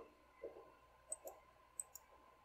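Computer mouse clicks on an old Pentium 4 PC: two pairs of quick, sharp taps, each pair a fast double-click, close and fairly quiet over faint hum.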